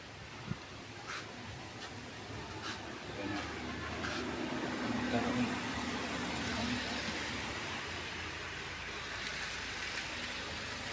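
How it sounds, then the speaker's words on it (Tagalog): Steady broadband wash of road traffic outside Barangay Mandalagan Elementary School, many vehicles rolling past continuously at moderate distance, with a brief thump near the start and no clear voices over the constant hiss. "Daming sasakyan."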